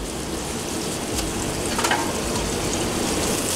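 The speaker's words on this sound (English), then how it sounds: "we're gonna let that sit and sear" An ahi tuna fillet with a maple Dijon glaze and Cajun seasoning sears in a hot pan, giving a steady, close, fairly loud sizzle that runs unbroken with no talking.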